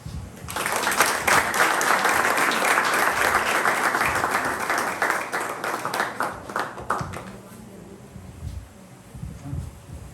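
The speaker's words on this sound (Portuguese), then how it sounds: "uma salva de palmas" A church congregation gives a warm round of applause to welcome a guest, many hands clapping loud and steady for several seconds, then thinning out as a few murmuring voices remain underneath.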